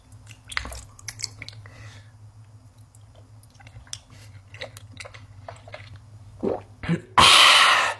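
Wet, squishy chewing and biting on a giant water jelly candy, a series of close mouth clicks and squelches over a low steady hum, ending in a loud crunchy burst.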